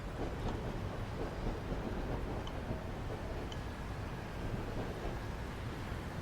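A Class 153 diesel railcar approaches in Train Simulator on a line around Cardiff, Wales, its engine a steady broadband rumble with some wind-like noise, holding at an even level throughout.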